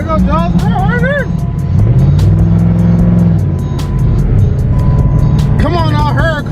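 A Lamborghini Huracan with aftermarket exhaust roars at a crowded gas station car meet, a loud sustained engine drone that rises and falls as it revs, with crowd chatter and shouting over it.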